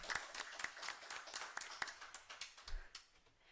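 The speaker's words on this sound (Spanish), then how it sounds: "Fuertes palmas para Oscar." An audience at a university book presentation applauds, with scattered hand claps at a moderate distance, faint and fairly sparse, tapering off toward the end.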